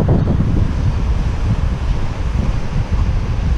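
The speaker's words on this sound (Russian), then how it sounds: "Это открытый океан, ребят." Open Pacific Ocean surf with strong wind buffeting the microphone, a loud, steady roar of waves and gusts filling the scene without a break, no voices.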